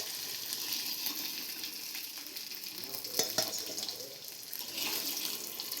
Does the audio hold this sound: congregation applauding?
no